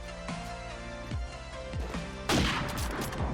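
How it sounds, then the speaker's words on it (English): Wallbang gunfire in Call of Duty 4 Promod on the District map: a run of several rapid gunshots penetrating a wall, each with a sharp crack and echoing tail, ending in a louder, denser burst. "you can also of course wallbang from this side to try and counter the sniper from defense"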